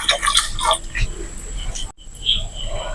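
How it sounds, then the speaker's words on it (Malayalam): Two glasses of water are poured into a pot of chicken madhooth and rice, a close splashing and trickling pour with a brief break, followed by fainter dripping. "ഇനി ഇതിലേക്ക് രണ്ട് ഗ്ലാസ് വെള്ളം കൂടി ചേർത്ത് കൊടുക്കാം"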